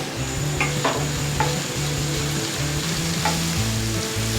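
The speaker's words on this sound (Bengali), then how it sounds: "মিডিয়াম ফ্লেমে প্রনটা আমি সটে করে নিচ্ছি" Prawns being sautéed in a pan over a medium flame give a steady, close sizzle, broken by intermittent scraping stirs, with faint background music underneath.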